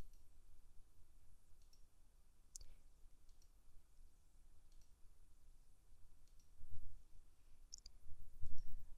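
A computer mouse clicks sporadically in a quiet room: a handful of faint, sharp single clicks spaced irregularly over low steady background hiss.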